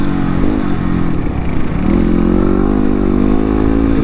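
A 2016 Yamaha WR250R dual-sport motorcycle engine revving hard while riding, a loud continuous buzzing drone that dips briefly and climbs again in pitch, heard close and alone without talk.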